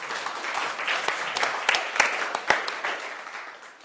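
Audience applause after a talk on governing climate change adaptation, a dense round of clapping from a roomful of people that builds, holds and then tapers off.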